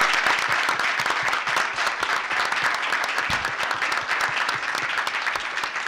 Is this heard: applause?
yes